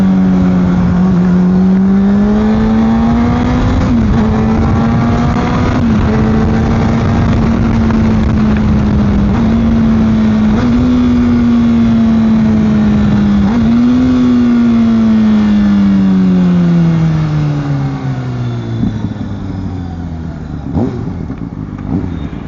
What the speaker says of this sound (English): Downshifts, gotta love them.